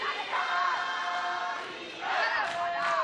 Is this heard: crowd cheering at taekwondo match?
yes